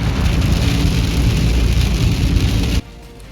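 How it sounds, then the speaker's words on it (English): Heavy rain pours down steadily over the Park Fire burn scar in a loud, dense roar that stops abruptly near the end, with no voices. "rain beats down in the Park Fire burn scar"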